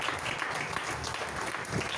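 A church congregation claps and cheers in praise, a dense, continuous burst of applause filling the room for a couple of seconds.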